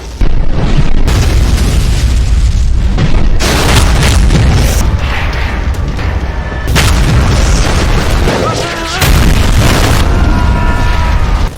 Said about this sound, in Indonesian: Dan ledakan besar terjadi.